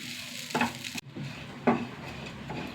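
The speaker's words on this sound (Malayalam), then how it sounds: "ചെറിയ തീയിലിട്ടിട്ട് വറുത്തെടുക്കണം." Grated coconut with a little fenugreek dry-roasting in a pan over a low flame for Kerala sambar: a soft, steady sizzle broken by a few close scraping stirs of a spatula, with no voices.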